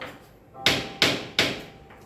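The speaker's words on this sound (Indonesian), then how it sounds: "Lalu hakim itu ketok palu." Three sharp wooden knocks of a judge's gavel, evenly spaced and close, each a crisp strike with a short ringing decay, heard alone.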